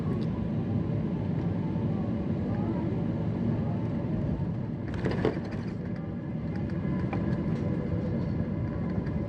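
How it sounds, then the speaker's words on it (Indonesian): A Thai Airways plane touches down on the runway at Bangkok in heavy rain, heard from inside the cabin as a constant low rumble with a brief bump and rattle near the middle. "Akhirnya roda dari pesawat sudah menyentuh landasan. Kita sudah landing"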